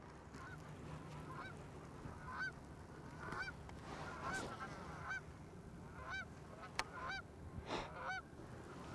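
Geese honk repeatedly at a distance, calls coming in scattered bursts over a low steady background hum.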